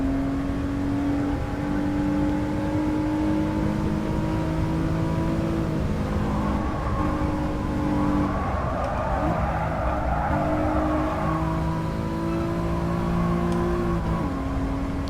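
A Renault Clio V6 in a sim racing game revs hard and steadily, its engine note climbing and dropping through gear changes, with tyre scrub in the middle and no talk over it.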